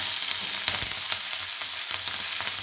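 Chopped cherry tomatoes go into fried onion fritters sizzling in a pan, a close steady crackle broken by a few sharp stirring taps.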